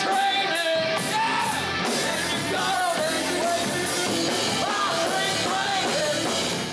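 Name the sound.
person screaming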